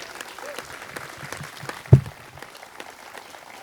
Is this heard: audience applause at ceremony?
yes